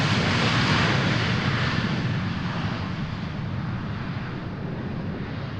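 A private jet roars loudly and steadily at Boeing Field airport. The broad engine noise stays close and holds for several seconds, easing slightly as it continues.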